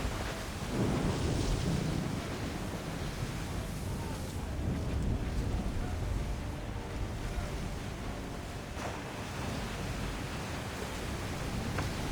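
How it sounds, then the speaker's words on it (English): Ocean waves and gusting wind at sea aboard a sailing ship in Assassin's Creed 3, a steady loud roar of surf and wind with surging swells and occasional sharp gusts throughout. "Look at those waves."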